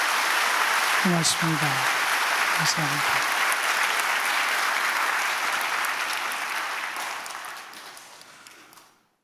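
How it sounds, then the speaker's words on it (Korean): A church congregation applauds at a Sunday worship service after a conductor's final performance, steady broad clapping that gradually fades out, while someone briefly speaks words of thanks over it. "한번 크게 박수 한번 해드리면 좋겠습니다"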